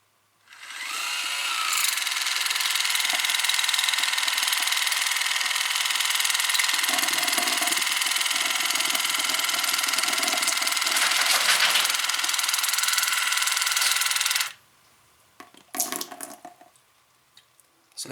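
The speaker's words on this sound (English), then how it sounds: "So I'm just going to do this for a few seconds so you can actually hear what it sounds like" A Mirapretty 360ML cordless rechargeable dental oral irrigator runs with a steady, close, high-pitched whirring buzz for about fourteen seconds, then shuts off, followed by a few faint handling clicks.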